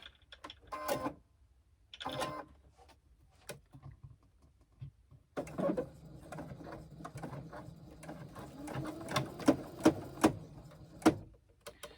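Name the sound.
sewing machine top stitching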